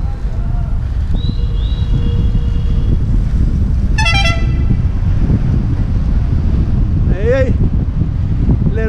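Short car horn toots sound twice over steady loud wind and traffic rumble, one brief beep early and a couple of quick honks later.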